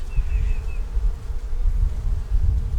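Honey bees buzz in a dense, continuous drone close to their hive, the low hum steady and loud throughout with a faint higher whine drifting in briefly near the start.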